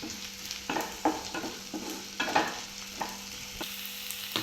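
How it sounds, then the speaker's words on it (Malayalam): Curry leaves frying in hot oil in a pan for a Kerala-style prawn chutney, a close, crackling sizzle broken by repeated bursts and scraping stir strokes, with no voices. "രണ്ട് കരിയാപ്പില ഇട്ട് നല്ലൊരു മൂപ്പിക്കണം"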